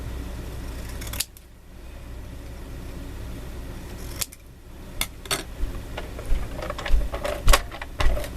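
Scissors cut through a recycled birthday card close by, a series of short, sharp snips growing more frequent toward the end over faint background hiss.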